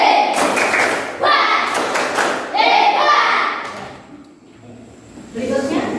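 Schoolchildren in a classroom perform a rhythmic clapping chant, bursts of clapping and thumps alternating with children's voices, fading briefly before resuming.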